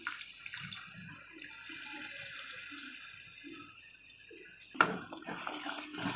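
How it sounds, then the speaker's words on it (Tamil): Tamarind water is poured into a pan of frying fish curry masala, a soft continuous sizzling wash with faint low bubbling, followed by a sharp clink and a brief louder hiss near the end. "புளி தண்ணி கொஞ்சம் ஊற்றிக்கலாம்."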